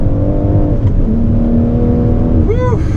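A BMW M140i hot hatch powers out of a hairpin on Llandow race circuit in third gear, engine droning steadily loud and close, then rising sharply in pitch as it accelerates near the end, with people talking over it.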